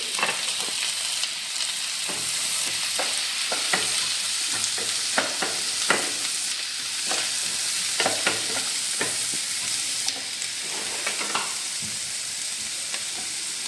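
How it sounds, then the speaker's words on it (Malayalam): A large onion and green chilies sauté in hot oil with a steady close sizzle, while a utensil stirring the pan makes irregular clicks and scrapes throughout. No voices are heard. "അപ്പോൾ നമുക്ക് ഈ ഉള്ളിയെല്ലാം ഒന്ന് വാട്ടിയെടുക്കാം"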